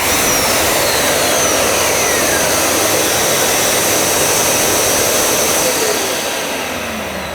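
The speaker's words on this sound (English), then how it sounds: "I'll turn the sander on and the hoover will kick in." A handheld sander runs briefly while a Karcher WD 3500P wet-and-dry vacuum auto-starts and keeps running, producing a loud, steady broadband motor roar that eases slightly near the end.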